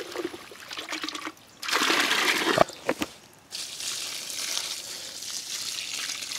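Diluted homeopathic solution poured from a five-litre container onto garden plants, coming as a few splashing, rushing bursts of liquid with short pauses between them, close and moderately loud, with no talking.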